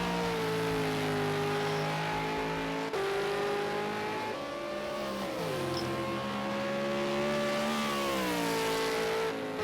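Supercars race car engines at Laguna Seca, a loud continuous high-revving whine that rises and drops through gear changes and braking as the car climbs and descends the circuit.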